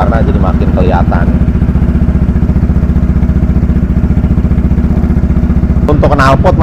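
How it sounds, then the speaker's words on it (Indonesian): Honda ADV 160 scooter engine running steadily, a loud, close, even putter throughout, with a brief rev near the end and people talking over it. "kita tes nyalain ya mesinnya ya"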